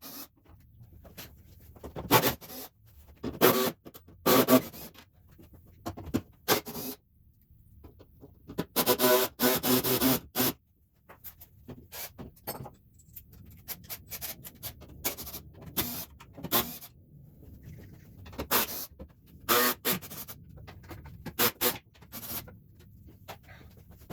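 Bolts come off the metal wiper-motor bracket of a 2012 Toyota Camry 3.5L V6 in scattered bursts of close ratcheting and clicking, separated by quiet pauses.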